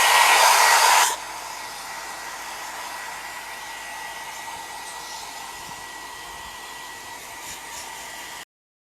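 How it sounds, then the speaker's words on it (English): A hair dryer blows loudly at close range for about a second, then drops to a steady, quieter whooshing hum that runs on evenly until it cuts off. "I'll just use the hair dryer to dry it a little faster."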